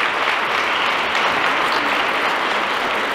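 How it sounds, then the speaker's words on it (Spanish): Sustained audience applause at a government cultural funding ceremony, dense steady clapping from a large crowd lasting the whole stretch, no speech over it. "También un fuerte aplauso para Canatlán."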